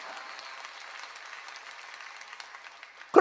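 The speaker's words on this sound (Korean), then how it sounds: "박수 치라니까" A church congregation applauding at a summer mountain revival gathering, with steady, dense clapping that holds through the moment and ends in a sudden louder burst.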